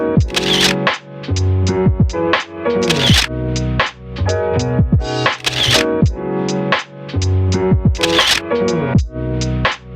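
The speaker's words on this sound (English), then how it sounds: "Alright, gonna take some snaps." A camera shutter fires in rapid repeated bursts, each cluster of sharp mechanical clicks returning in a steady rhythm, close and fairly loud with no talk.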